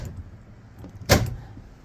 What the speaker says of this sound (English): Other than that, I got the door locks to work.